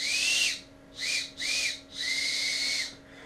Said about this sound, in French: Écoutez ça fait un bon sifflet